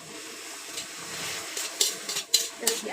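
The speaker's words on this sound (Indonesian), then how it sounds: "Terus diaduk sampai gulanya larut." Grated coconut with palm sugar, a little sugar and water being stirred in a pan for Acehnese cassava timphan, a soft bubbling sizzle with sharp spoon scrapes and clinks growing louder toward the end.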